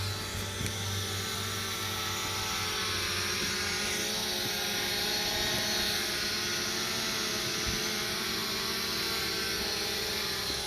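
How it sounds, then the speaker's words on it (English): A DJI Mavic Pro drone hovers with a continuous high-pitched propeller whine and buzz, steady and unbroken, close by with no talk over it. "so now the drone is hovering"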